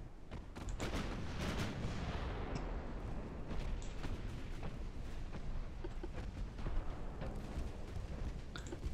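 Destroyer naval guns firing in a battle in Ultimate Admiral: Dreadnoughts, dense rumbling booms and overlapping blasts rolling on continuously, distant-sounding and fairly quiet.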